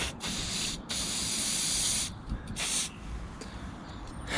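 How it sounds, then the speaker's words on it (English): WD penetrating fluid sprays from an aerosol can onto a stuck nut on a car, in close hissing bursts: one long spray, then several shorter ones with brief gaps between. "So I'm going to cover it in penetrating fluid."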